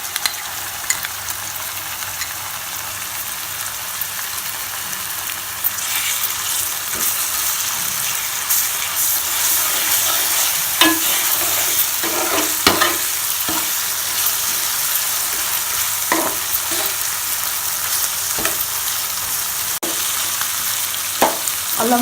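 Ginger garlic paste and onion paste frying in a pan for Andhra-style fish curry, a steady close sizzle with intermittent scraping stirs growing busier toward the end.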